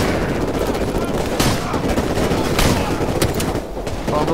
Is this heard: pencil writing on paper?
no